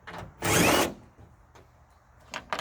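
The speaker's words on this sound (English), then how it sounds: "looks like we got a couple screws here to pull out to remove this tail light" Cordless power drill backing screws out of a tail light on a Ford F350 dually with a 7.3 diesel: one loud, close half-second burst, followed by faint handling clicks and a couple of short taps.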